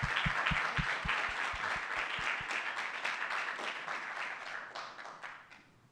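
An audience applauds debate speakers at a campus event, a steady wash of clapping with a few distinct close claps at the start, tapering slightly toward the end.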